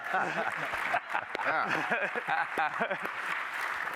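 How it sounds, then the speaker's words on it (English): Audience applause at a media industry conference leadership session, a moderate broadband clapping spread through the whole stretch and partly masked by someone talking loudly over it. "could I hear some applause from the people who think Nick is a salesman?"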